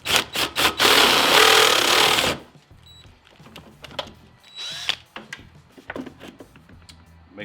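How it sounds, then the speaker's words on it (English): A power drill fitted with a step bit bores out cable holes during a 5 kW install on a Yamaha G29 golf cart, giving a loud, steady whine for about two seconds, then quieter clicks and handling noises follow. "We're going to drill these out."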